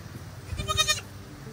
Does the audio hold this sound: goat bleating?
yes